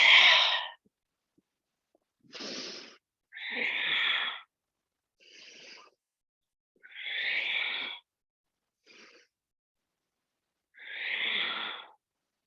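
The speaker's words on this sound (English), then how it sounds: "Breathing in and breathing out." Slow, deep yoga breathing comes in separate breaths with silent gaps between them, each a soft, airy rush of inhaling or exhaling heard close to the microphone.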